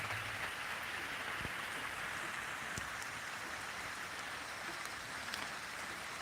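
Persistent rain lands on a pond surface, an unbroken wash of hissing drops with a few sharper individual splashes and ticks scattered through, moderately loud and steady with no speech.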